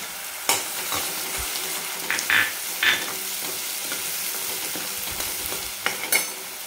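Coconut and onion paste for Maharashtrian shev bhaji sizzles steadily in a pan, with a few louder scrapes and stirs of a spoon breaking through the frying hiss.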